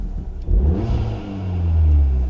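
A Volkswagen Golf R Mk7.5 engine in race mode with exhaust valves open revs up loudly with a deep, throaty exhaust roar, rising and holding close by.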